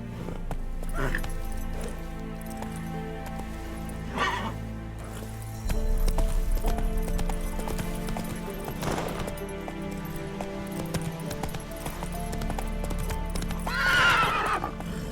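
Horse hooves clip-clop in The Witcher 3 with a steady rhythmic trot, mixed with game music and a couple of loud neighs, and someone speaks briefly over it.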